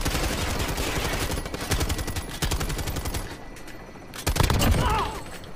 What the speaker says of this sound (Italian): Sto sparando.